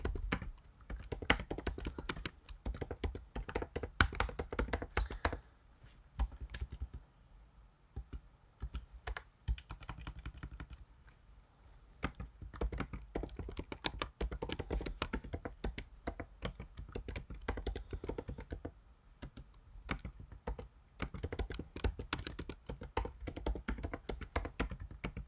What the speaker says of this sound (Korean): 교재 461페이지 아래에 있는 명령어를 타이핑한 후에 설명드리도록 하겠습니다